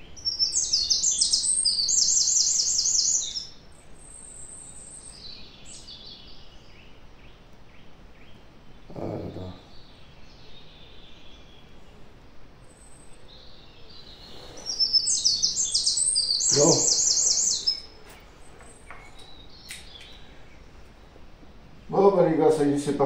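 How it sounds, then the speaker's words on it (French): Small birds chirp and sing outdoors on open land during a standing rifle-shooting session, with two bright bursts of song near the start and middle between quieter stretches and a few low thumps. "il y a les petits oiseaux qui chantent"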